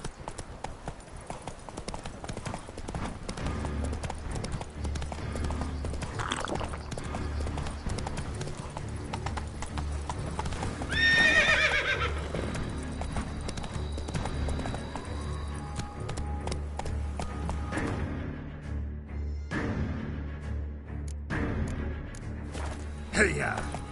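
Horse galloping in the video game Witcher 3, a fast rhythmic run of hoof clip-clops over a low rumble, with a short whinny midway and game sounds layered on top, steady and close throughout.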